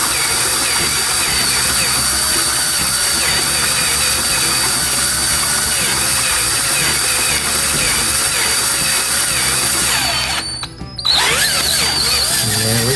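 A power tool cuts through thin metal on a classic Ford brake job, lubricated only by residual grease as cutting fluid; a steady, loud grinding whine runs continuously, then drops out briefly near the end before starting again.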